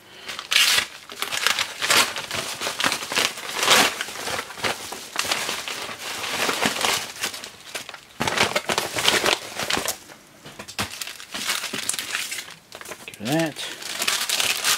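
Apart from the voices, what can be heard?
unwrapping paper and plastic bag packaging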